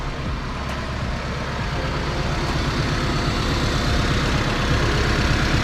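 A Honda Civic wagon engine with an M62 supercharger idles loudly and evenly, a steady low rhythmic rumble with a slight whine above it, running continuously with no talking.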